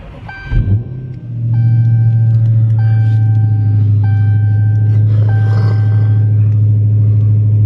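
A 2018 Dodge Challenger Hellcat starts with a sharp cranking burst, then settles into a loud, steady deep rumbling idle, with repeated electronic chime tones sounding over it.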